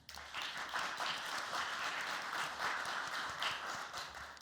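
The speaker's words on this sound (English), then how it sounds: "please give a thunderous round of applause." Sustained audience applause fills a hall at the Korea-Eureka Innovation Forum, a dense, steady wash of many hands clapping at even loudness throughout, with no talk over it.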